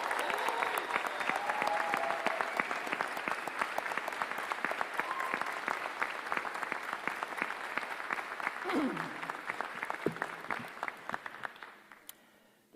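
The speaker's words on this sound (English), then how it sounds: "please join me in a big round of applause for our graduates" Convocation audience at a university graduation ceremony applauds the graduates with sustained, dense clapping that runs steadily for about ten seconds before fading away near the end.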